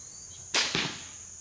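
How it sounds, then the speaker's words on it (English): A crossbow fires with a sharp, loud release snap followed a fraction of a second later by a second thud as the bolt strikes, both standing out over steady background insect hiss. "I'm going to turn the volume up and listen to the bow as it goes off."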